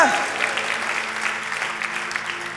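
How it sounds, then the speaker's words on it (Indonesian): A church congregation claps during a sermon, in a dense, sustained burst of applause that fades slightly toward the end, with a brief voice at the very start. "Oh, tepuk tangannya with passion buat Tuhan kita."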